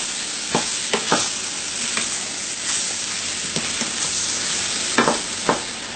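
Steady low sizzle of roux cooking on low heat in a pot for gumbo, with occasional soft clinks and scrapes of stirring, close and even with no talking.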